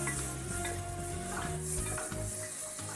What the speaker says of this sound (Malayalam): അത് നന്നായിട്ട് ഇളക്കി കൊടുക്കണം